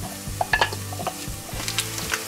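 Onions sizzling in butter in a pan alongside bacon, a steady frying hiss with a few clinks and scrapes of a utensil stirring, close and moderately loud, with no talking.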